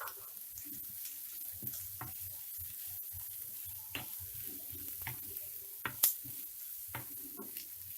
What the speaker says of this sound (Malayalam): ഇഞ്ചിയും വെളുത്തുള്ളിയും ഈ സവാളയും എല്ലാം കൂടി നന്നായി ഒന്ന് വഴന്നു വരണം.